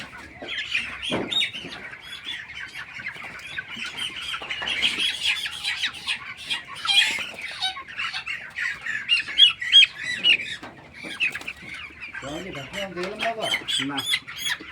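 Chickens squawk and cluck in a dense, continuous chorus inside a poultry farm where the birds receive vaccine eye drops, with several sharp close calls and a brief voice near the end.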